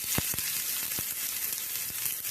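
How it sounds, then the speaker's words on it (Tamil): Hot oil crackles and sizzles steadily, with a few sharp pops as mustard seeds and curry leaves fry close by. "எண்ணெய் நல்லா காஞ்சிருக்குது இப்போ கடுகு போட்டுப்போம் கருவேப்பிலை போட்டுக்கலாம்"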